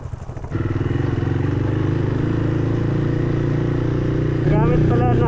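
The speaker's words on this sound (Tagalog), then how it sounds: "Gamit pala na motor ni Dos si Purga, yung dati natin PG1." A motorcycle engine runs close by, a loud, steady rumbling putter that starts abruptly after a brief moment and then holds an even rhythm, rising slightly near the end, with a voice talking over it.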